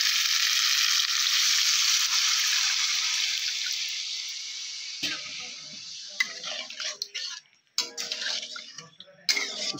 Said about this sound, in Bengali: এখন আমি পরিমাণ মতো জল ঢেলে দেবো।